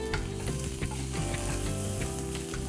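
Onions and garlic sauté in a pan for meatloaf, giving a dense, even sizzle with a faint background hum and light clicks from stirring at irregular moments, no voices.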